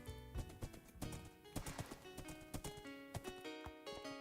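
Horse hooves clip-clopping in the Minecraft-based game Wynncraft, a quick, regular run of crisp clops over a tonal game backdrop, close and clear with no speech.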